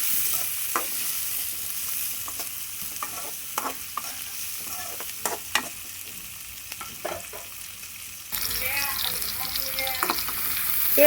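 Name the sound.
onions frying in a pan for Andhra chicken gravy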